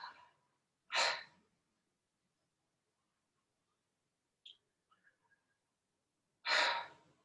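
Slow, deliberate breaths in and out through the mouth during pranayama Kriya Yoga practice, two loud airy exhales several seconds apart with a few faint clicks between them in a quiet room.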